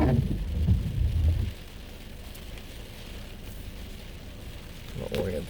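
Heavy rain pours during a weak supercell storm with strong wind and lightning, a steady broadband hiss with louder low rumbling gusts at the start and a brief swell near the end.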